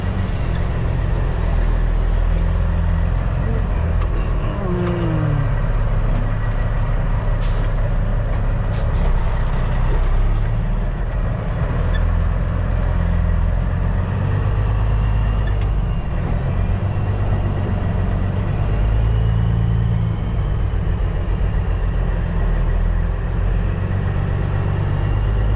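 A semi truck's engine drones steadily from inside the cab as it pulls ahead to reposition, with a constant low rumble and a faint squeak partway through.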